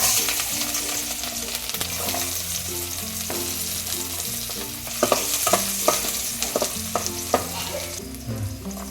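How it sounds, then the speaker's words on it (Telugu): Onions fry in two spoons of oil with a steady, close sizzle under frequent stirring, the scrapes and knocks growing busier and more clattery in the second half, no speech. "రెండు స్పూన్ల ఆయిల్ వేసుకోవాలి. ముందుగా ఎల్లిపాయలు వేసుకోవాలి."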